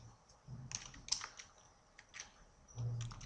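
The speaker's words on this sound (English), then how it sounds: "I'm going to type in the same thing, glowing. Hit on the enter key." Keys clatter on a computer keyboard in short, irregular bursts of close, crisp clicks, with one heavier press near the end, all fairly quiet and without talk.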